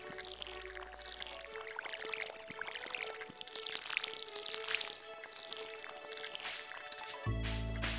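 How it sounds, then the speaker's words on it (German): Watering can pouring water onto crops in the Stardew Valley farming game: repeated soft splashing pours over steady background game music, fairly close, with no talk. "Und schwuppdiwupp ist die Gießkanne auch schon wieder leer."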